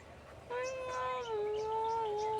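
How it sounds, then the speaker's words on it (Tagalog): A cat meows near a lake, giving one long, drawn-out, wavering call that starts abruptly and holds steady, close and clear over faint outdoor background. "Daming pusa dito."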